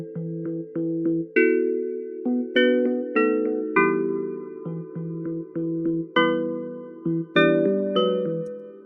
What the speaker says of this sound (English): we also have the electric piano that play underneath it